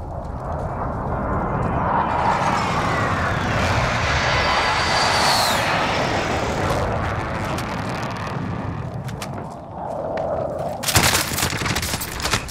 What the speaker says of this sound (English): Enemy precision airstrike.